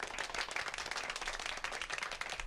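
A small group claps steadily, a dense patter of hands that holds evenly for a couple of seconds without cheering.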